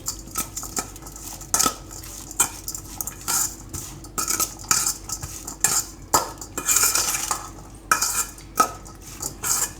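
Spoon scraping and clinking against a bowl while mixing a spicy pizza sauce mixture for bread mini pizzas, a loud, irregular run of metallic taps and scrapes close up, with no talking.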